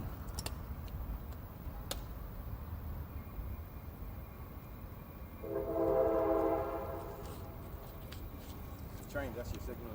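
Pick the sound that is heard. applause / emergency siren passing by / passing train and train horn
passing train and train horn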